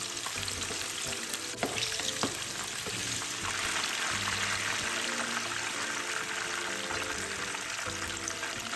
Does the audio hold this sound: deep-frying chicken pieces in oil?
yes